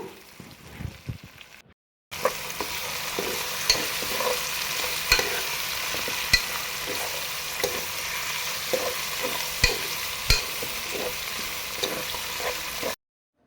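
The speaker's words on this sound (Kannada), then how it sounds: "ಸೊ ಇದನ್ನು ಇವಾಗ ಒಂದು 2 ನಿಮಿಷ ಈ ರೀತಿಯಾಗಿ ಆಯಿಲಲ್ಲೇ ಫ್ರೈ ಮಾಡ್ಕೊಳ್ಳಿ" Vegetables frying and being stirred in hot oil in a pan, a steady loud sizzle running throughout with regular scraping spoon strokes, after a brief quieter start.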